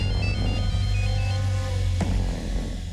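A telephone rings in a crime drama scene, a steady electronic ringtone with repeating tonal pulses over a low hum, heard alone with no talking.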